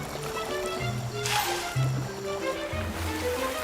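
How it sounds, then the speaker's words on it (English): Wild elephants bathe in water, with soft sloshing and splashing, a brief brighter splash near the middle, and low rumbling tones running beneath at a moderate distance. "Another common behavior that helps them keep their cool is bathing."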